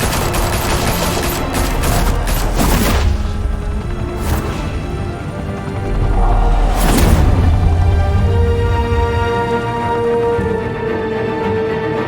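Bursts of gunfire in Batman: The Telltale Series, with a dense volley of shots up front, then scattered blasts and booms over a steady rumbling game soundtrack.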